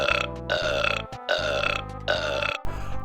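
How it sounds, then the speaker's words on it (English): A long, loud belch from the cartoon character Barney Gumble of The Simpsons, rolling out in several throaty surges with brief breaks between them, heard up close with no talk. "burping, expelling of the gas, the methane gas from your gut out of your esophagus"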